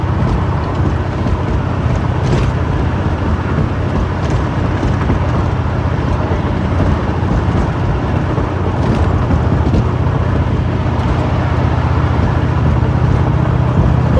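Steady road traffic and engine drone heard from inside a moving vehicle passing through a construction zone, a continuous loud rumble with wind noise and no talking.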